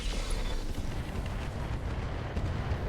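Full weapons salvo fired by a mech in the RogueTech BattleTech game, a dense rumbling barrage of booms and blasts rolling continuously and loudly without a break.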